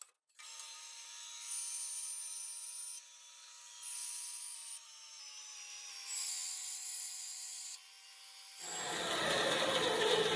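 A handsaw cuts small angled pieces off a wooden thwart for a Snark Sunflower sailboat, steady close rasping strokes in several bursts, ending with a louder, broader burst of cutting.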